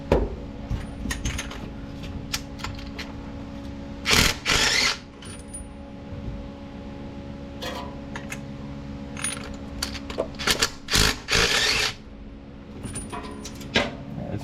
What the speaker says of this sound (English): I'm gonna go straight with the rattle gun this time.